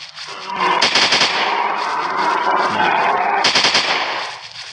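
Rapid bursts of gunfire in a mobile dinosaur-hunting sniper game, loud and sustained for several seconds with a sharper burst near the start and another near the end.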